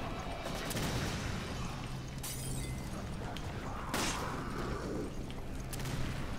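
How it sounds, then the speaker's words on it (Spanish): Scattered gunshots and bursts of fire in Resident Evil 5 echo over a dense, constant background din, with a couple of sharper crashing impacts standing out. "un disparo a cada uno y ya me los he cargado"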